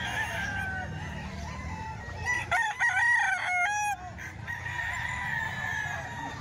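A straight comb rooster lets out one clear, loud crow in the middle, rising and falling over about a second and a half, over a low background of farmyard murmur.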